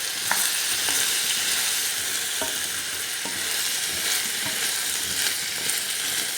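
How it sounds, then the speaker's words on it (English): Potatoes sautéing in a pan for aloo saag, a steady close sizzle with occasional stirring clicks and scrapes, no voices. "In go the potatoes. Saute them for a bit."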